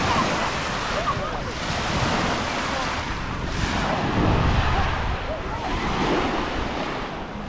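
Waves roll and slosh on the Dnipro River in Kyiv, a loud, continuous wash of churning water mixed with strong wind buffeting the microphone.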